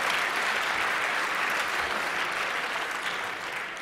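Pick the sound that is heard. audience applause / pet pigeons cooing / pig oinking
audience applause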